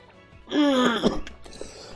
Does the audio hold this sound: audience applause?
no